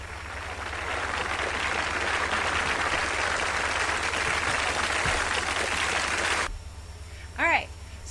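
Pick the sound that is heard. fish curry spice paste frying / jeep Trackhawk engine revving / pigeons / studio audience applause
studio audience applause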